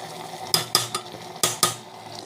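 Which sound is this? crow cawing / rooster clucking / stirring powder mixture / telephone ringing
stirring powder mixture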